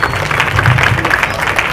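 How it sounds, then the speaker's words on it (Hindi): Crowd applause at a gathering in Aurangabad, a dense, steady patter of clapping through the whole short stretch, with a low murmur of voices underneath. "एक बार जोरदार तालियां सभी के लिए।"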